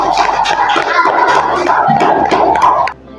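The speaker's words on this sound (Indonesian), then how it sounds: "Ya, kita berikan tepuk bintang 5." A classroom of students does a rhythmic group clap with shouted chant, loud and close, the burst of voices and hand claps running for nearly three seconds before cutting off abruptly.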